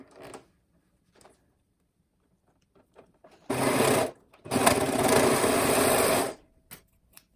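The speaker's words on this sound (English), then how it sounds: "I'm going to serge back over that spot" A serger sewing machine stitches over thick layers of fleece on a slipper, running in a short burst and then a longer steady run, loud and close between quiet pauses.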